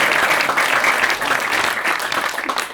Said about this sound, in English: A round of applause for this young lady.